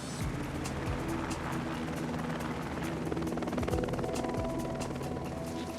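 A helicopter's rotor thumps and engine whine fill the scene steadily at moderate distance during a wild bison capture, with no talking.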